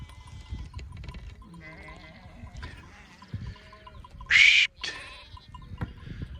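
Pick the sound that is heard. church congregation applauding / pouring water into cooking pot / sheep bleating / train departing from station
sheep bleating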